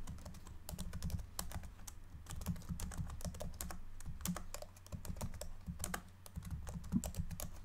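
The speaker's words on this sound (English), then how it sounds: "He sat at his desk in room 427 and he pushed buttons on his keyboard." Fast, steady computer keyboard typing close to the microphone, a continuous patter of crisp key clicks with occasional louder presses, soft and intimate in tone with no talking.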